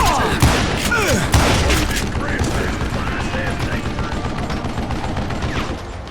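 Rapid gunfire and explosive impacts in the Western shooter Call of Juarez: Gunslinger, a loud, dense burst of shots and booms that thins into a continuous rattle.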